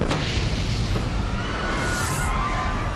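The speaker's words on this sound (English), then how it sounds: "they heard a boom." Dramatized explosion boom aboard a passenger plane taxiing on a runway after touchdown: a sharp loud burst at the start followed by a sustained, dense rumbling roar that fills the whole span without letup.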